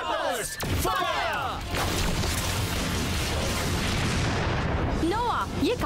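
Power Rangers Super Megaforce fire attack blasts in a Hindi-dubbed action scene roar as a loud, sustained barrage of explosive booms and gunfire-like bursts, with voices shouting briefly at the start and near the end.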